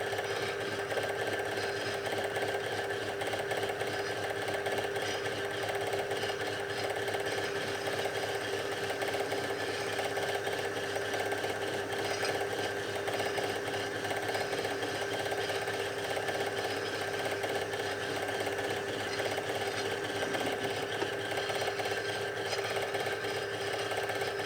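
A metal lathe cuts a 16 mm workpiece toward threading depth, producing a steady, faint mechanical whir with a constant hum and no talking.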